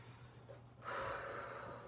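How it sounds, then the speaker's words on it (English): During a standing exercise routine, a person takes one sharp, heavy breath close to the microphone. Before it there is quieter ambient noise. "Breathing."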